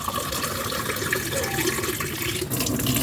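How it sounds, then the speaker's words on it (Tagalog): Water is poured into first-press coconut milk for a Bicol-style ginataan dish, making a continuous close splashing and trickling pour with no speech. "2 baso, 2 tasa ng tubig sa unang gata."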